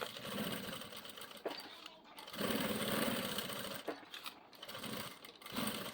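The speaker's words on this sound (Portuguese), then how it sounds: "Vou passar uma costurinha em toda a volta." A sewing machine stitches all the way around the edge of a fabric makeup bag, running in steady buzzing bursts with brief pauses between them.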